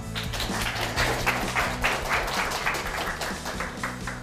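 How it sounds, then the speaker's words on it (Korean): A studio audience at a lecture show welcomes guest speaker Lee Young-min, head of YM Consulting, with sustained, even applause over a low, steady musical bed. "이영민 대표님을 큰 박수로 맞이해 주세요"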